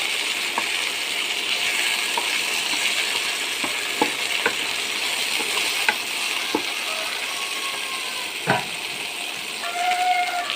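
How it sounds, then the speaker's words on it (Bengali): Fish frying in oil in a pan for a fish curry, giving a continuous bright sizzle with scattered pops, scrapes and clinks of stirring. "মাছগুলো আমার ভাজি হয়ে গেছে"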